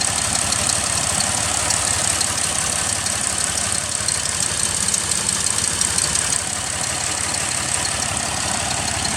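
A 2005 Toyota Highlander engine idles with a misfire, a steady, loud, close running drone with faint irregular knocking throughout and no talking.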